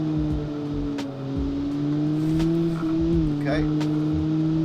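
A 1956 Gasmea car in the Automation car game at Road Atlanta drones on in a steady engine hum, dipping and rising in pitch through gear changes, under a voice.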